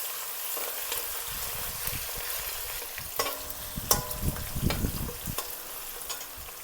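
Green chillies, ginger and garlic frying in a pan for egg fried rice sizzle steadily while a spoon stirs them, with scraping strokes and clinks growing busier toward the middle, close and fairly loud.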